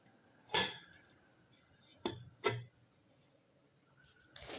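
A metal container set down inside a pressure cooker holding water and a stand gives a few sharp clanks and knocks with quiet gaps between them, close by, in a quiet kitchen.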